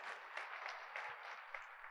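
A church congregation applauds a young artist, a steady wash of many hands clapping that sounds faint and distant throughout.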